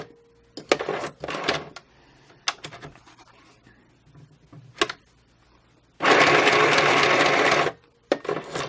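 Sewing machine stitching paper and fabric scraps onto a collage card with black cotton thread, heard in several short bursts of stitching and then one longer, louder continuous run near the end.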